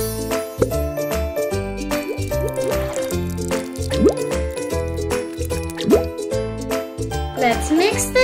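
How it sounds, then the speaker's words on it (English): Mushroom liquid pours and drips into cupcake batter in a cartoon café kitchen, a run of bright plops, drips and tinkles in a rhythmic pattern over a steady musical backing. "Now let's pour in the mushroom liquid."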